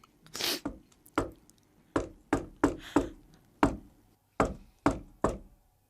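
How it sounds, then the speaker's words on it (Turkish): About a dozen sharp knocks on a door, loud and close, in irregular bursts with short pauses between groups, no talking. "Allah Allah Belgin abla böyle çalmaz ki kapıyı"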